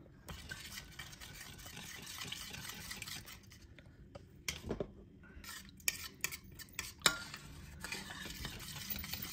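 A spoon stirs milk into a frying vegetable mixture in a pan to smooth out lumps, with soft scraping and clinks of utensil against the pan and irregular sharper taps later, close and fairly quiet.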